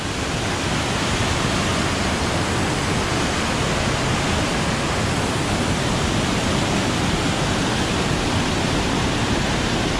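Flooded waterfall thundering after heavy rain in a deep gorge, a dense, steady broadband roar of rushing water filling the scene from start to finish without a break.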